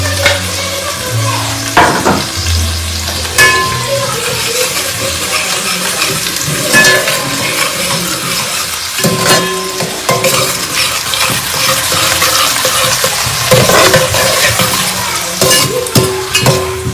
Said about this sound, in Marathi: टोमॅटो पण मस्त तळून घ्यायचा.